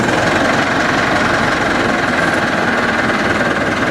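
A Massey Ferguson 385 tractor diesel engine, a 2016 model, runs loud and close in a steady, rough, knocking drone that never changes pace; no clear start-up is heard and no one speaks.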